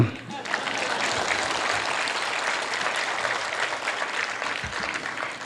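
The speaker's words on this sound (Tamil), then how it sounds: "நீங்கள் கொஞ்சம் கம்மியாக கைத்தட்டுறீங்களோ" A crowd claps steadily in a sustained round of applause, full and even throughout.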